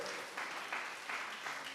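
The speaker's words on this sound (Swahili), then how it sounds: "muhurire makofi onake." A church congregation applauds at a Christmas Eve service, soft, fairly distant clapping rising and falling in short waves.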